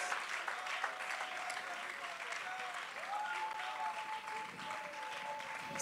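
A church congregation applauds in a sustained, dense burst of clapping, with voices and a faint tone running underneath.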